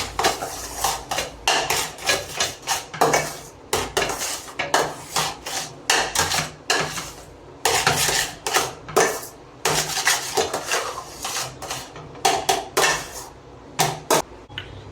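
A spoon scraping and clanking against a metal pan while mixing rava kesari with added food colouring, steady repeated strokes in uneven bursts, close and fairly loud, with no talking.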